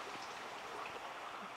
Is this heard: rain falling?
yes